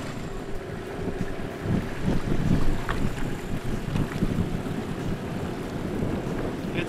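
Wind gusts over a bumpy lake, recorded from a fishing boat, make a steady rumble and buffeting against the microphone, mixed with waves slapping the hull and no voices.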